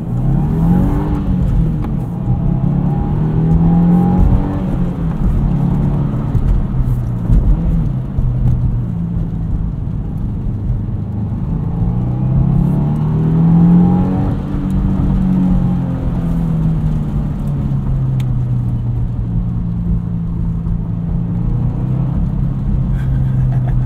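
Turbocharged engine of a 2022 Subaru WRX with a 6-speed manual revs and pulls through gears, the pitch rising and dropping with each shift, a steady loud cabin drone throughout.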